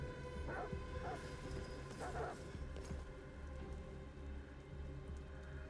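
Dogs bark a few times at a distance, the short barks spaced out over steady rain and stormy ambience. No one speaks.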